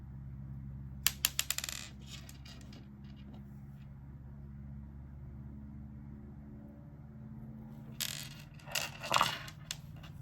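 Plastic beads click and rattle as they are handled while making bracelets, a quick burst of small clatters early on and another cluster of clicks near the end, close up over a low steady hum.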